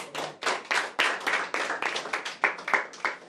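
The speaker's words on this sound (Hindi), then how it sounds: "चलिए एक बार और ताली।" A small group claps in a steady, rhythmic beat at a celebration for NIMCET exam achievers, with a cake being cut. The claps are close and crisp, about three per second, and continue without talk.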